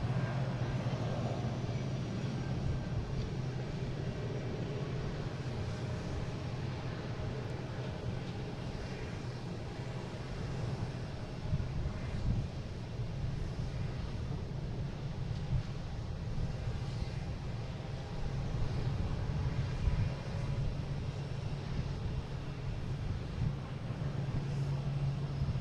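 Airbus A220 airliner departing Boston Logan International Airport for Philadelphia, a steady, fairly distant jet engine roar with a low rumble that holds evenly throughout, no voices.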